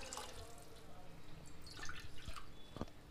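Water poured from a bowl into a pressure cooker while making poha pongal: soft, irregular splashing and dripping with a few light clinks, steady and close throughout.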